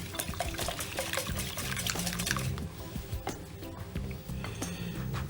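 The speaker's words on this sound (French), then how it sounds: "On va verser les œufs sur le chocolat" Eggs are poured onto melted chocolate for a flourless chocolate cake, giving a soft liquid pouring and splashing sound up close amid light kitchen clatter.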